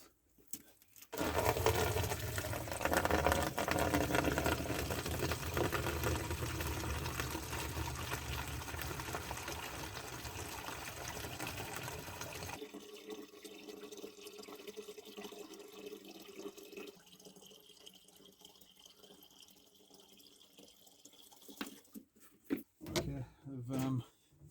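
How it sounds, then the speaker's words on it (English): Coolant draining from an old Caterpillar engine into a container, a loud steady rush of pouring liquid that stops about halfway, leaving quieter clatter and handling noises, with talk over parts of it. "So I'm gonna drain off some coolant,"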